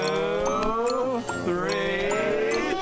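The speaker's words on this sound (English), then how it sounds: "Let's count sheep." Sheep bleating, with several wavering, drawn-out bleats overlapping close by over about three seconds and a faint tinkle in the background.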